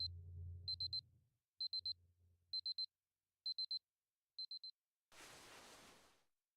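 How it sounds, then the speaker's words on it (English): An alarm clock rings in Fate/Grand Order with repeated pairs of bright electronic beeps in a steady rhythm, followed by a short burst of soft rushing noise, no talking. "I hear sound of a very familiar alarm."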